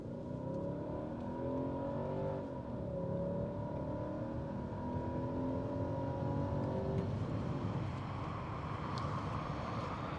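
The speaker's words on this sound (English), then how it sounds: "Let's put it in sport and let's see how it feels going down the road. Foot to the floor." A luxury V8 car, either a Jaguar XJR or Mercedes CL500, accelerates hard in sport mode with the pedal floored, its engine note rising in a steady, loud drone heard from inside the cabin.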